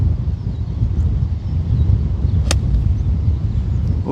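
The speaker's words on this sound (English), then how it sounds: "Tough day, wind." Strong wind roars across a golf course as a steady, loud, low rumble buffeting the microphone, broken by one short sharp crack partway through.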